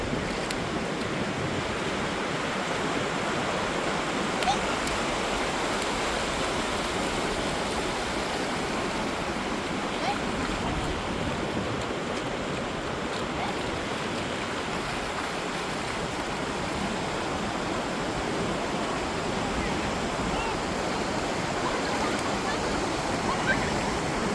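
Ocean waves at the beach give a continuous even wash of surf, steady and moderately loud throughout with no distinct breaks.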